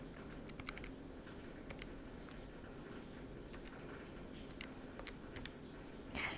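Keys pressed on a calculator keypad while working through a geometric sequence problem, a soft scatter of light clicks at uneven intervals over a low steady background hum, close and quiet with no talking.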